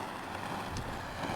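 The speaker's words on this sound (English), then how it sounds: "It's pretty windy." Wind blows outdoors in a steady, faint rushing gust against the microphone, with no other clear sounds over the short span.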